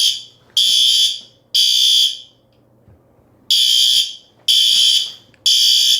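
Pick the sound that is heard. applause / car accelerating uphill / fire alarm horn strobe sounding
fire alarm horn strobe sounding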